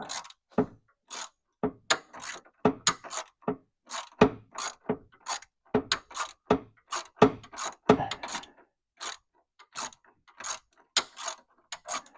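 A ratchet wrench clicks through repeated bursts while bolts are backed out during installation of an electric power brake booster on a 1966 Corvette, the sharp metallic ticks coming in quick uneven runs with short pauses, close and clear with no talking.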